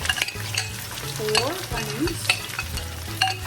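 Four onions sauté in a hot pan in a home kitchen, giving a steady sizzle broken by repeated stirring and scraping. Low hums run underneath and no one speaks.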